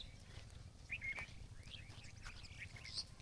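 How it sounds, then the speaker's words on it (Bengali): Small birds such as doves and mynas chirp in short, scattered calls across open maize and paddy fields in rural Bangladesh, over a steady low rumble of outdoor background noise. "দেখো কত পাখি এখানে, এই যে উড়ে যাচ্ছে"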